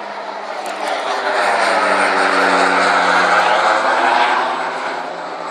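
An airplane drones overhead, its engine roar swelling to a peak and then slowly fading as it passes.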